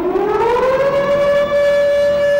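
A loud air raid warning siren winds up from a low pitch to a steady, piercing wail and holds it. It sounds alone, with no voices.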